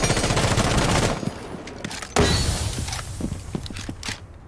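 Gunfire in Rainbow Six Siege, a rapid automatic burst, then a pause and a second loud burst of shots with clattering tails, all close and sharp, with no voices.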